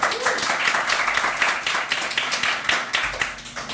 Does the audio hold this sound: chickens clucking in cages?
no